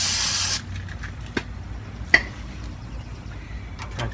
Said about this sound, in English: Take my brake cleaner.